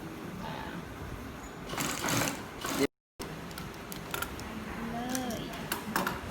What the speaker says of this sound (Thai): เราก็เย็บ พับเหมือนเดิมนะฮะ